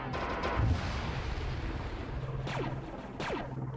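Sentry guns fire in a Star Wars clone trooper versus CIS multiplayer battle game. A muffled boom comes early, followed by distant sharp shots over a constant rumbling background.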